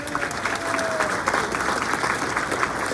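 A room of attendees at a Good Morning Corona community event gives a round of applause, steady moderate clapping with a faint tonal voice-like trace early on and no clear speech.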